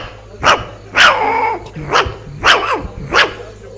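During a Yakshagana comedy performance, a performer vocally imitates a puppy barking: five sharp, loud yapping barks in an uneven rhythm, close and clear with no other sound.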